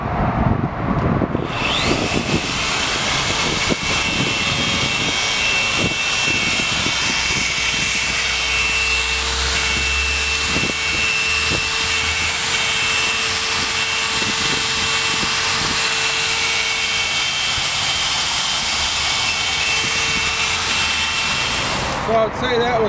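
A slow-speed 7,000 RPM die grinder fitted with an abrasive wheel whines steadily as it grinds rust off a metal vending machine rack, with a continuous high-pitched tone and occasional scraping contact sounds.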